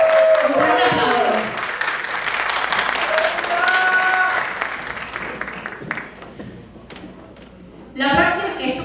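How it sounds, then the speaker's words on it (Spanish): Loud applause from a crowd at a beauty pageant gala fills the clip, with music and voices mixed in; the clapping swells again near the end. "Un fuerte aplauso."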